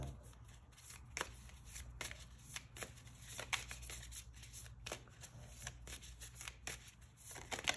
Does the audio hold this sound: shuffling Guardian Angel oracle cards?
yes